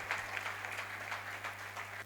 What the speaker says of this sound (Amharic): ለዚህ አጨብጭቡ። ጭብጨባ ያስፈልጋል።